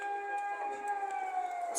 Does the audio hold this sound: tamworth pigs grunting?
no